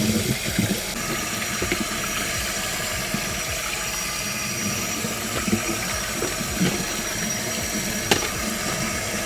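Cold tap water runs steadily over chopped cabbage in a colander, a continuous close hiss and patter of water falling through the leaves.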